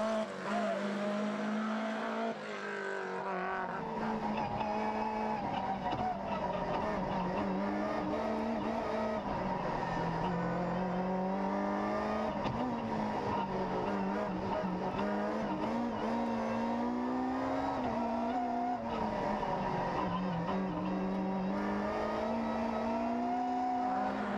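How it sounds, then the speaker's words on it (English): A BMW M3 rally car at speed on a Rally Islas Canarias 2014 stage, its engine roaring loud and close with a steady note that rises and falls through revs, with touches of tire squeal. "In third position, it's the old classic, the BMW M3 of Jose Maria Ponce"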